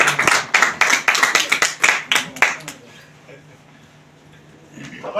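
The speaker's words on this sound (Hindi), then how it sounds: "एक बार जोरदार तालियां" Close, loud clapping from a business meeting audience, a run of rhythmic rapid claps for under three seconds, then a quiet hall before a voice begins speaking.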